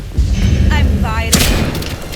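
Gunfire in the video game Atomfall: a few sharp broadband shots and booms ring out over game ambience, with a voice talking across much of it.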